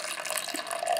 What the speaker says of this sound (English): now we are going to pour in our water, our 1/4 cup of steaming hot water